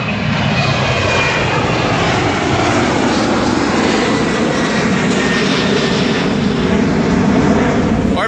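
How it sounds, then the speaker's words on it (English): A jet aircraft doing a touch and go at a Chicago airport roars loudly and continuously, a dense, steady engine rumble and whine that holds strong throughout. "I think that jet's just a touch and go"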